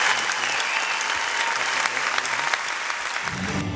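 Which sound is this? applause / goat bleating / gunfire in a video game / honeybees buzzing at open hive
applause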